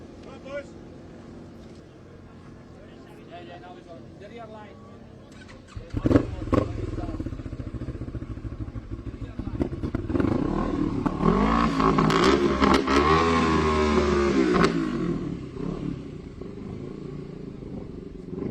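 Racing motorcycles sit on the start line at the Lightweight Manx Grand Prix, first idling quietly, then engines bark and rev loudly up close, building to a sustained roar of several bikes together, with a commentator speaking over them.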